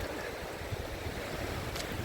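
Ocean waves washing onto the beach at Filey on a winter day, a steady low rush of surf with wind buffeting the microphone throughout and no voices.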